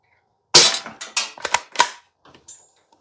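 An Umarex NXG CO2 BB pump shotgun fires at a target: about five sharp, loud cracks in quick succession, spaced roughly a third of a second apart, followed by a few fainter clicks and a small metallic ping.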